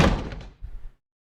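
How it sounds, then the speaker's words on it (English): A door closes in the video game One Thousand Lies with a solid thunk followed by a softer second knock as it settles, fairly close and alone, then silence. "Isn't it hilarious how easily I can just close the door again?"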